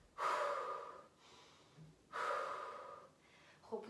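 Two long, loud breaths during a held plank in a cardio workout session, each a strong rushing exhale lasting about a second, close to the mic, with a brief faint sound in between.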